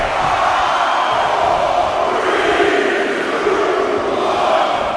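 A virtual arena crowd in the WWE 2K20 wrestling game during a Royal Rumble match roars continuously with a dense, steady wash of cheering and shouting, loud and unbroken throughout.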